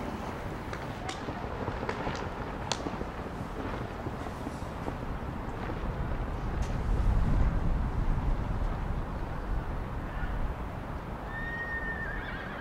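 Racehorses galloping during public training at a Hokkaido thoroughbred training sale, a continuous rumbling gallop under dense noise that swells around the middle, with a track announcer speaking over it.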